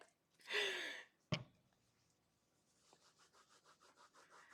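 A brush scrubs a stain-test surface in a short, raspy burst, then a sharp knock, followed by a faint, rhythmic series of quick back-and-forth scrubbing strokes, alone and close.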